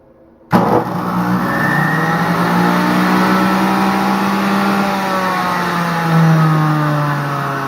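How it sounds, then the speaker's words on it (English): A juice extractor motor, empty and on its lowest setting, switches on abruptly and whirs loudly and steadily, its pitch sliding slightly as it spins up, with no voices. "I'm going to turn it on just so you guys can hear it"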